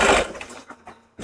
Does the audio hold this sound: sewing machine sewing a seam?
yes